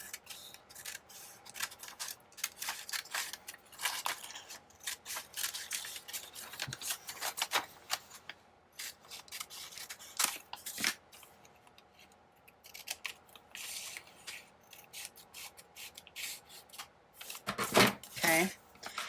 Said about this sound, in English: I'm going to try to cut this as straight as possible.